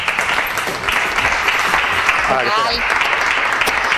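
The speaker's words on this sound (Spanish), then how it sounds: "Un fuerte aplauso" A studio audience at a live television show claps steadily, welcoming a guest, the dense applause running throughout with people talking over it midway.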